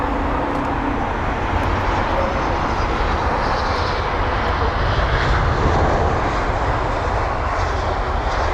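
A fourteen-year-old airliner at London Heathrow runs its engines in a continuous, loud, even roar with a faint rumble beneath. No talking is heard.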